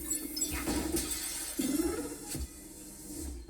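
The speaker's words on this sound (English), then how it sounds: "That glass freaking exploded into my face, Mario!" Glass shattering in Luigi's Mansion 3, a sharp breaking crash with scattered tinkling chinks and a few brief impacts following, fairly quiet against the game's background.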